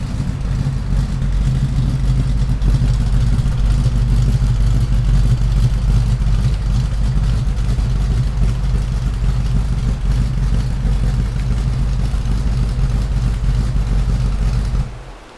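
Loud, close Pontiac Firebird engine roaring and revving in a dense, steady rumble that cuts off abruptly at the end.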